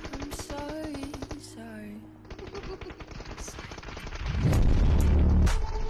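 PUBG Mobile gameplay gunfire rings out as rapid bursts of sharp shots with short pauses, building into a heavier, louder barrage near the end, while a voice talks underneath.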